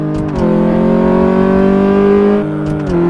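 Car engine in Car Mechanic Simulator held at high revs on a test track, a loud, sustained droning tone with small pitch shifts and short dips as it eases and climbs again, no talking.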